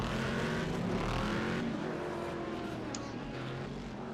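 A race car engine in a video game, a Corvette, drones steadily in a dense, loud roar, its pitch holding fairly constant with a slight easing toward the end.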